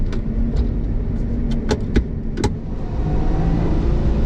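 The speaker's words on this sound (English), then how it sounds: "Almost immediately then you can hear that screaming supercharged V6 delivering 390 horsepower." A Lotus Exige Final Edition with a 390-horsepower supercharged V6 drives along as a loud, steady engine roar fills the cabin, broken by a few sharp ticks.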